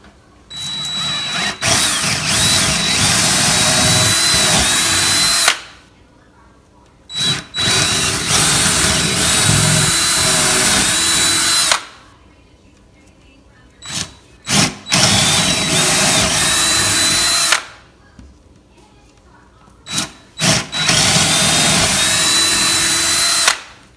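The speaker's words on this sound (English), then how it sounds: "Now drill a 3/8 inch hole through these 4 holes" A power drill bores 3/8 inch holes straight through a door in four loud sustained bursts, each whining steadily for several seconds, with brief quiet gaps and small clicks between holes.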